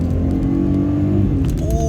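A 2004 Perodua Kancil's small 3-cylinder, 31-horsepower engine pulls hard from inside the car, a buzzy, steady drone that climbs slightly in pitch near the end, with no talking.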